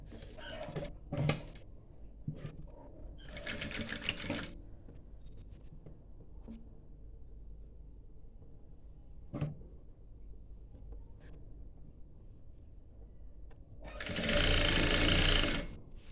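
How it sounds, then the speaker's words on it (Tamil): A sewing machine stitches fabric in a tailoring class, with short close bursts of rapid whirring separated by quiet handling sounds and a longer, louder run near the end. "நான் அதை வந்து ஸ்டிச் பண்ணிவிட்டு நான் உங்களுக்கு காட்டுறேன்."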